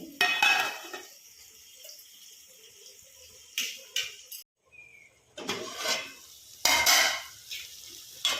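Metal utensils clink and scrape against a pot while red lentils and rice are mixed for khichdi, in several short bursts, with quiet pauses between the stirring sounds.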